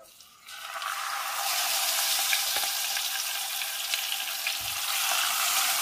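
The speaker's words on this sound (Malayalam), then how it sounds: "വെളിച്ചെണ്ണ ചൂടായി, അതിലേക്ക് മീൻ വെച്ച് കൊടുക്കാം" Marinated fish sizzles steadily as it is laid into hot coconut oil in a pan, a loud, dense crackle that begins abruptly and continues without pause.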